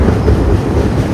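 A passenger train on the Kanniyakumari to Pondicherry route crosses a river near Sattur, a loud, close rumble of wheels and carriages that rolls on steadily for a brief moment.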